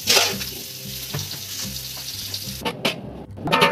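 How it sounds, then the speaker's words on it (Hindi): Potatoes fry in a spiced masala for Hyderabadi aloo soyabean tahari, giving a steady close sizzle with scraping stir strokes throughout and a few brief splashy bursts near the end. "आलू इसमें हल्का सा हमें फ्राई करने के लिए"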